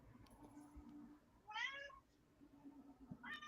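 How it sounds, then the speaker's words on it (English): A domestic cat meows twice, a short rising mew in the middle and another beginning at the end, faint and somewhat distant against a low room hum. "Oh, that's my cat."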